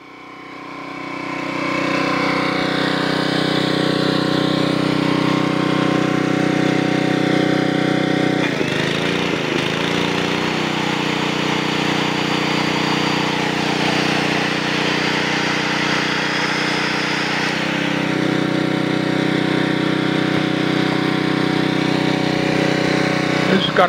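A Generac 750 watt portable generator runs at half choke, its small engine starting up and settling into a loud, close, steady buzzing drone that stays even except for a short rough patch partway through.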